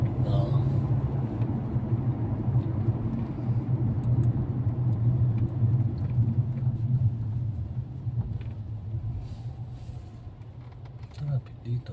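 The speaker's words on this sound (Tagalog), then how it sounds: "Traffic pa din sa kabila oh." Steady low rumble of idling and creeping cars stuck in a slow road traffic jam, heard from inside a vehicle on a road trip, a continuous close engine drone with faint traffic noise around it.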